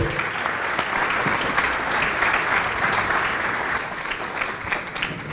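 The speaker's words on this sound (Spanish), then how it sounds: "por favor, recibimos con un fuerte aplauso a Diego." A crowd at a fintech blockchain conference applauds to welcome a speaker, dense continuous clapping that holds for several seconds and thins slightly toward the end.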